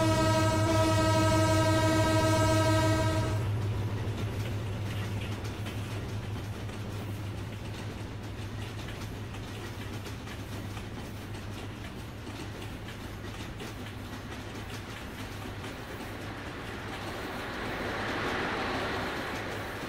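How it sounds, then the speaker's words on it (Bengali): In a Bangladesh train simulator game, the Banalata Express sounds a long steady horn blast, then rolls past with a sustained low rumble and rattling wagons that swell again toward the end. "চাপাই আর রাজশাহীর কিং খ্যাত সেই বনলতা এক্সপ্রেস আমাদের এদিকে এগিয়ে এসছে"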